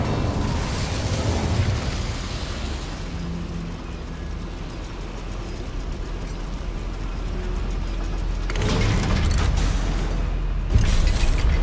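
In Hogwarts Legacy, an Incendio fire spell bursts inside a goblin mine, loud whooshing flares near the end rising over a constant heavy rumble.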